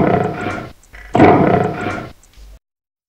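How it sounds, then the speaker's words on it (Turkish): Lions roaring in a series of deep, loud, rasping bursts, two long roars separated by short pauses and followed by a smaller grunt, heard close and alone. "Aslanlar."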